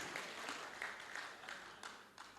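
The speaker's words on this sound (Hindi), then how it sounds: "एक बार मेरे लिए भी तालियां बजा दीजिए" Audience applause at a Hindi poetry recital, a mushaira and kavi sammelan, with a steady crowd clapping throughout that stays fairly close and even and never drops away.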